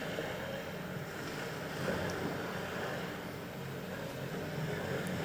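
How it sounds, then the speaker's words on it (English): Ocean surf sound played back through an in-wall Bluetooth audio receiver with amplifier, a steady broadband wash of waves and wind-like hiss running unbroken throughout with no voices. "That's ocean sound."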